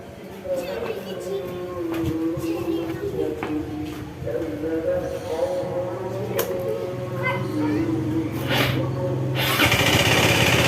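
An automatic scooter engine idles with a steady rough drone and rattling, knocking ticks, revving higher near the end; someone talks over it.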